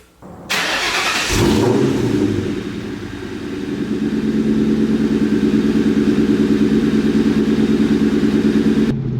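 A Ford Mustang starts with a loud crank and catch, then settles into a close, steady engine drone as it pulls away and drives up the road, with mild revving along the way.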